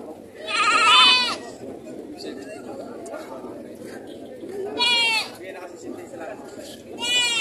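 Goats bleat loudly nearby in several wavering cries, with a busy crowd of people chattering in the background throughout, at a goat market.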